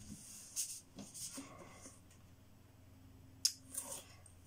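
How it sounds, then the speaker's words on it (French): Scissors snip through paper in a few quick, crisp cuts at close range, quiet and separated by short pauses, while crafting a paper album. "Ciseaux."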